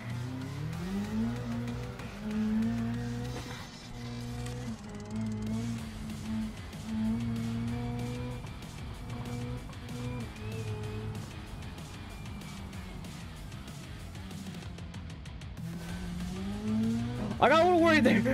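Rally car in the BeamNG racing game sliding on dirt, a steady engine drone with gear shifts and rising revs, tire noise, and a sharp squeal near the end, with someone talking over it.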